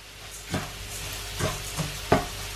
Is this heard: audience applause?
no